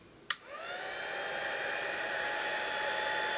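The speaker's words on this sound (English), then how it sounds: "And then here's this heat tool." A new heat embossing tool on setting 1 switches on with a sharp click, then its hot-air blower spins up into a steady, moderately loud rushing hiss with a faint whine, running alone.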